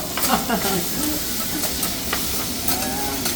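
Stir-fried food sizzles steadily on a teppanyaki griddle, with a loud, continuous hiss and crackle broken by scraping and clinking as the food is tossed.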